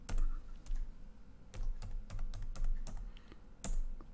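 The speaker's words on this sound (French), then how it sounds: "Et je tape mon mot de passe." Someone types a password on a computer keyboard, a run of close, irregular key clicks with brief pauses and one sharper tap near the end, no voices.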